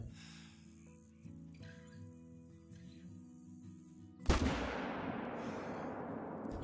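A .30-30 rifle shot at a mule deer in the hunting game Call of the Wild: a single sudden loud crack after quiet ambient outdoor sound, followed by a long rumbling echo fading out.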